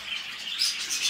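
Pet birds in a cage chirp in a dense, continuous high twitter while a parent bird feeds its newly hatched chicks, steady and fairly close with no talk over it.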